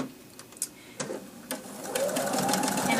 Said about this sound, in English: So I'm stitching up to the pin but not over it.